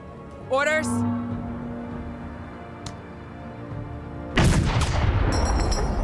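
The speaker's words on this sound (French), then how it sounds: "Ok, encore un tir de canon" Cannon shot in a video game: a sharp rising whistle, then a sudden heavy blast with a roaring, rumbling tail. A faint click sounds in between, and a voice talks over the later part.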